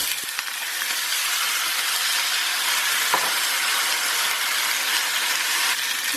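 Potatoes tipped into a pan of caramelized onions for a vegan potato curry, setting off a steady, close, broadband sizzle of frying that holds evenly throughout with a few small clicks and stirring bumps.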